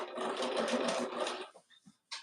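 A sewing machine stitches quilt fabric in a fast, continuous buzzing run up close, then slows into a few short stuttering bursts before stopping, with one more quick burst at the end.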